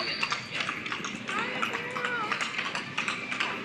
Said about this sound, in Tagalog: Andito tayo sa Chinese na may kabayo.